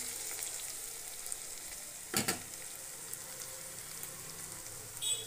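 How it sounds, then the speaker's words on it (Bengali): Onions fry in a pan with a soft, steady sizzle, close and quiet, broken by a couple of brief stirring scrapes. "কালারটা একটু চেঞ্জ হয়ে গেলেই পেঁয়াজটা ভাজা হয়ে যাবে"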